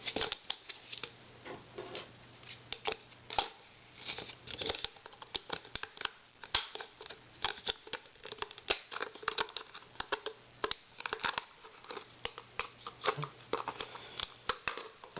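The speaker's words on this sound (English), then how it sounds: "If I get some scissors, I can cut it the rest of the way." Scissors snip through a plastic DIY camera mounting fixture for a FLIR thermal camera adapter in a rapid series of close, crisp clicks and crunches, with no talk during the cutting.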